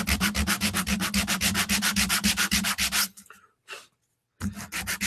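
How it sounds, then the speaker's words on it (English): Sandpaper rubbing a bevel on a prop rifle part in a shop, fast rhythmic back-and-forth strokes, loud and close, pausing briefly before resuming. "Now this has like a bevel on it, so I'm just going to try and sand that in before I cut it here."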